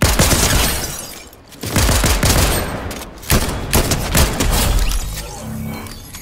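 Fortnite gunfire in a solo match: loud, dense bursts of automatic fire, as if a whole magazine is emptied at once, broken by brief pauses and sharp impacts.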